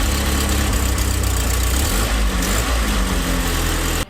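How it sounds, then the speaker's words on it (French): A van's engine idles steadily after being restarted with a cleaned old distributor cap, a loud close low rumble running unbroken for about four seconds before cutting off abruptly. "Et après ça, le moteur redémarre."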